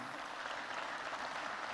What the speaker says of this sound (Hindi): इस पे भी जोर से ताली है।